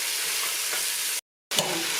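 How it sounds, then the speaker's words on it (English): Onions sizzle and sear in a hot pan for a beef stew, a steady bright crackling hiss that cuts out briefly and then resumes. "she's throwing the onions in right now. They're going to get a little searing on those onions"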